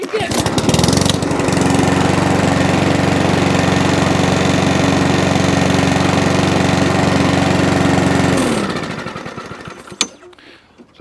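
A Mountfield HP45 petrol lawn mower engine runs loud and steady at close range for about seven seconds, then winds down and cuts out, with a single sharp knock near the end.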